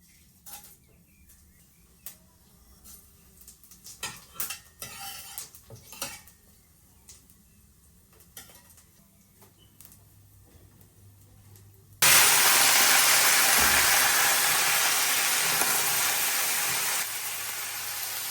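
Dried red chillies, panch phoron and bay leaf hit hot oil in a home kitchen, a loud steady sizzle bursting in after scattered clinks of pots and utensils and holding strong to the end.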